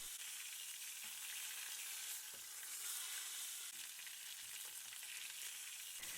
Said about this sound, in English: place your steak in the skillet. You want the steak to sear very quickly on both sides to lock in the juices